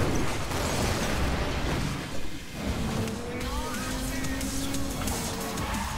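A car drifts in Need for Speed Most Wanted (2012), with a dense engine roar and tyre noise that dips for a moment midway and then carries on loud and sustained.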